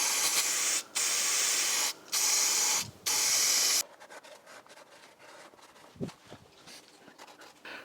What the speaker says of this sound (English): So I'm going to use some brake clean liquid to spray it off